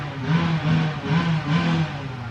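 A dirt bike revs nearby in repeated rising and falling surges, four throttle swells in quick succession over a constant engine drone, with no talking.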